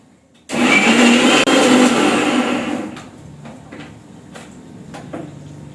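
A mixer grinder whirs loudly as it blends a spice mix for eggplant curry, running steadily for a couple of seconds, then winding down, followed by a few faint clicks and knocks as it settles.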